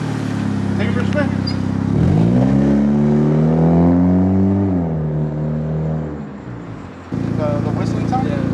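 A 1999 Honda Civic driving, its engine droning steadily while a tonal whistle-like whine rises, holds and falls with the revs, then cuts back to a flat hum near the end.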